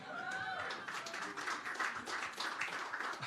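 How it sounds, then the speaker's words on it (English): A small town hall crowd claps lightly and briefly, a thin scattered applause with no cheering. "That's a pretty tepid applause."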